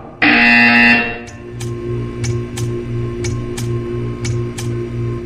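Portal 2 test-chamber buzzer: a loud harsh electronic blare lasting about a second, followed by a steady low hum with sharp regular ticks repeating roughly every half second.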